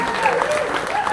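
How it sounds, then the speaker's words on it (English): Applause from guests at a wedding reception honouring the family, a steady close wash of clapping filling a brief moment. "You get a round of applause"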